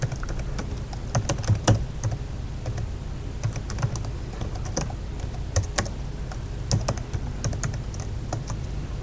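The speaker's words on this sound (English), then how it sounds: "I'm just going to type it here for you so you can make a note of it" Someone types on a computer keyboard in quick, irregular bursts of close, crisp key clicks with brief pauses between words and no talking.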